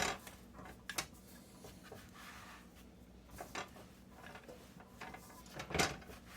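Rolling pin working all-butter pie crust dough on a well-floured board, heard as soft intermittent rubbing and wooden knocks, with brief louder bumps near the start and the end.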